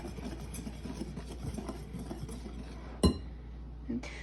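Ingredients, including a pinch of salt, are stirred in a bowl for a gluten-free peach and blueberry pie crust: faint, repeated scraping taps, then one sharp glassy clink near the end and a lighter knock after it.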